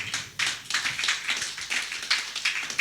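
A church congregation claps in acclaim of the Lord, a dense run of fairly loud, rhythmic hand claps continuing steadily without speech.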